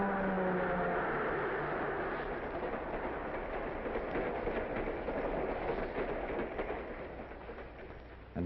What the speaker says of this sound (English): The train is passing under a safe highway crossing built above the tracks.